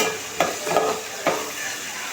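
Ingredients with salt are sautéed in a pan for tamarind curry. A steady sizzle runs throughout, broken by three sharp scrapes or knocks of a spoon against the pan, close and fairly quiet.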